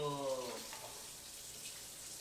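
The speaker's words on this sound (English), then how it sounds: "let me go ahead and wash my hands real quick" Hands are washed under a running kitchen tap while cooking vegan eggplant parm: a brief voice at the start, then a steady, close hiss of flowing water that continues to the end.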